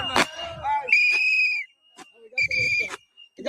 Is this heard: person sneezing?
no